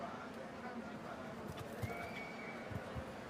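A horse at a show jumping team final in Aachen gives a clear neigh amid hoof clip-clops, with an arena murmur and a commentator talking underneath at moderate distance.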